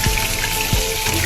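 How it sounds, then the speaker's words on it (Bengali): Chopped onion drops into hot oil tempering for Bengali aloo posto, giving a steady, close sizzle that fills the short moment with no voices. "আমি পেঁয়াজ কুচনোটা ফোড়নে দিয়ে দিচ্ছি"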